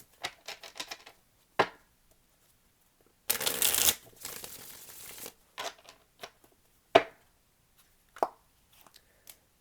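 A deck of playing cards being riffle-shuffled twice at close range, with a dense fluttering burst of card flicks followed by scattered taps and a few sharp card snaps.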